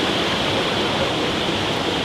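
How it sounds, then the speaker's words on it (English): Malanzai Waterfall in Kangpokpi, Manipur, roars as a loud, steady, broadband rush of falling water, constant and close, with no other sounds. "The waterfall, Malanzai Waterfall, is just at the back of my place."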